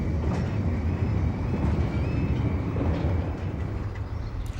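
A freight train rolls past on the North Wales coast line at a steady, moderate level, giving a continuous low rumble with a faint high squeal of wheels.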